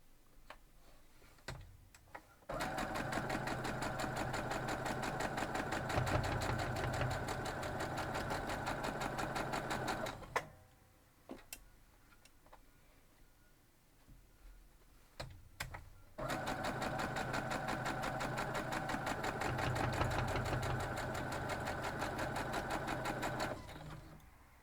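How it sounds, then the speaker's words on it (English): Quilt block pieces for a Ladies Aid album 9 inch block run through a sewing machine in two long, steady bursts of fast rhythmic stitching, close up, separated by a quiet pause with small handling clicks. "we're gonna sew those up"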